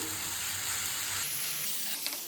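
Ginger garlic paste sizzles steadily with softened onions in a pan for chicken pulusu, a dense close hiss with a brief utensil clink near the end.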